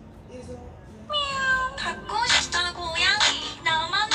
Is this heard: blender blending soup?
no